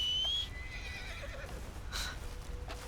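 A horse in the Red Dead Redemption 2 video game gives a short, shrill whinny right at the start, then falls quiet beneath a low, steady ambient rumble with faint scattered hoof sounds.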